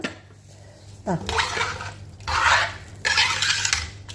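Water splashes in short pours into a mackerel fish curry masala in a pot, three separate bursts with faint clinks of utensils between them.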